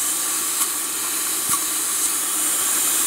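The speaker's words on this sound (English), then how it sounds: "steam's going back in again. We've still got a leak." Steam hisses steadily and loudly from a leak on a 5-inch gauge model NSWGR C32 class steam locomotive under overhaul, a continuous broadband rush with a few faint clicks, heard close up with no talk.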